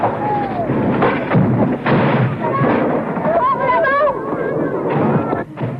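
Combat footage of airstrikes and close-quarters fighting, with a dense, roaring rumble of explosions and gunfire bursts continuing throughout, mixed with faint shouting voices.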